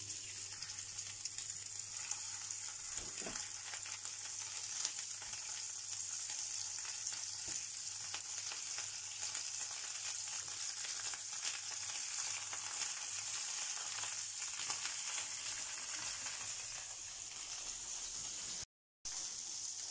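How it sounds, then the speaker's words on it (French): Floured sardines sizzling in a hot pan with the heat turned off, a steady crackling fry hiss throughout with small pops, close and fairly quiet, briefly cutting out near the end. "Vous voyez les sardines, elles commencent à griller bien comme il faut."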